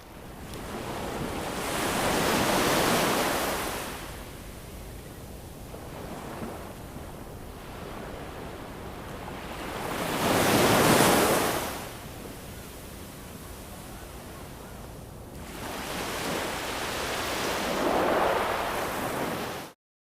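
Ocean surf breaks on a rocky coast beside a lighthouse, three broad washes of roaring white noise swelling and receding slowly, steady and moderately loud with wind in the background and no voices.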